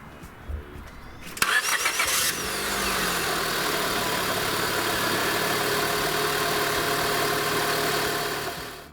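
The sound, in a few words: 2004 Honda Civic engine starting after starter replacement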